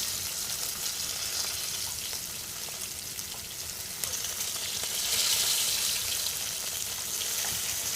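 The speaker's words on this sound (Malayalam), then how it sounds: "ആറ് മുതൽ 8 മിനിറ്റ് വരെ ഇതിനെ നമുക്ക് മീഡിയം ഫ്ലെയിമിൽ ഫ്രൈ ചെയ്യാം" Boneless chicken pieces frying in oil over a medium flame, a dense, continuous hissing sizzle that swells slightly midway, close and steady with no talk.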